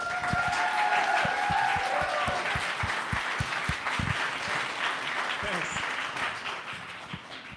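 An audience welcoming speakers to the stage claps in sustained, dense applause, with a few louder individual claps up front and a voice briefly heard early on.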